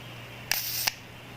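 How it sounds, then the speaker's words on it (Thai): Electric plasma lighter, a gas-free waterproof model with a flashlight on the back: a sharp button click, a short crackling buzz lasting under half a second, then another click, close and alone. "มีปุ่มให้กดตรงนี้นะครับ ไฟแช็กก็จะติดนะครับ"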